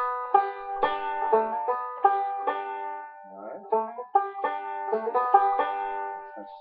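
Banjo notes are picked one after another, with some notes sliding smoothly in pitch, played alone at moderate volume.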